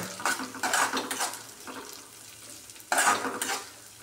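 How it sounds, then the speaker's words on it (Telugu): Thinly sliced small onions frying in a pan for idli upma, with bursts of scraping stirring and clinking utensil sounds over a soft steady sizzle; no one talks. "చిన్న ఉల్లిగడ్డ తీసుకున్నా, సన్నగా కోసేసి దాంట్లో వేసేసేయాలి."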